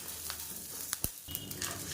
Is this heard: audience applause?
no